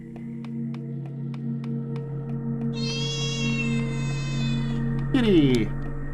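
A cat meows in the horror game Sucker For Love, a drawn-out meow rising over a steady droning background with ticking sounds, closing in a sharp wavering yowl.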